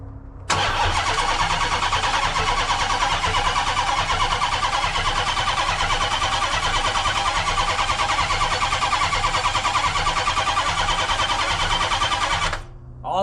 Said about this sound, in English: we're gonna jump the starter relay to get some oil pressure pumping everywhere